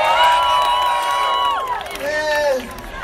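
An audience cheers and whoops at a fire show, a loud crowd of overlapping voices rising and then falling away, with shouted calls carrying above the cheering.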